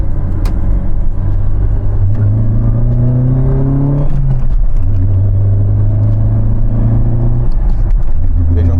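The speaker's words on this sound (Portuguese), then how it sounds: "vou fazer um incremento de marcha de pé no fundo mesmo" A car engine climbs in revs under full throttle, drops sharply as the gear changes, then rises again, loud and close, with a voice speaking over it.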